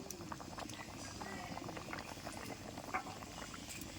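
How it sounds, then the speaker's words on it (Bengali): Mustard parshe fish curry bubbles in a pan, a dense, continuous simmering burble with small popping sputters throughout, close and fairly quiet; no speech. "এই দেখুন আমার তরকারিটা ফুটছে কি সুন্দর।"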